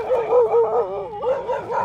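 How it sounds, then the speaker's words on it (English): Dogs at a dog park bark, yip and whine almost continuously and close by, with howling, wavering tones and no talking over them. "There's just lots of dogs out right now."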